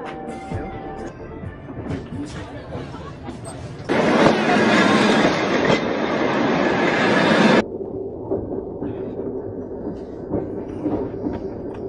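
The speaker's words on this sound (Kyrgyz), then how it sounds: "Так, поезд отъезжает" A departing passenger train with rail cars rattling along the track, a loud steady roar in the middle of a stretch of background activity and voices.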